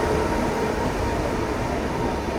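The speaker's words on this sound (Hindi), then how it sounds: "और ये भी हमारी ट्रेन नहीं है।" Rail noise at a station platform in India near Kanyakumari: a steady, loud, broadband rumble of train movement, with no voices heard.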